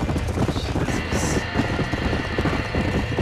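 Horses trapped in a burning barn in the Red Dead Redemption video game, a dense clatter of hooves under crackling noise and talking voices.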